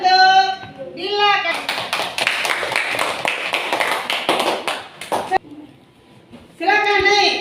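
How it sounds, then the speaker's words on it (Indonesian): Classroom applause for a pupil named Dila: a dense burst of clapping lasting about four seconds, close and lively, framed by a teacher's voice before and after. "Oke, kita beri aplaus untuk Dila."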